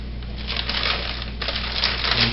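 A rattling cascade of frozen Italian-style meatballs tumbling into a microwave-safe bowl, a continuous clattering pour with a few brighter knocks near the end.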